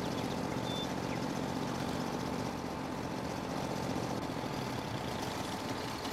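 A tractor engine idles steadily in a farming video game, a constant low rumbling drone with no change in pace, close and fairly loud throughout.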